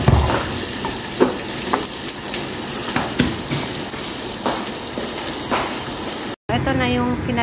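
Ginger sizzles and fries in a hot pan, a steady crackling hiss with scattered clicks of stirring, close and fairly loud, cut by a brief dropout near the end before a different, more tonal background resumes.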